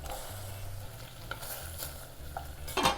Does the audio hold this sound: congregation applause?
no